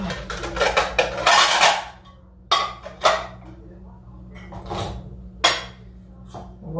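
Dishes, pots and cutlery being handled and stacked for washing in a home kitchen, with bursts of clattering and clinking in quick clusters, then separate knocks, close and loud over a faint background hum.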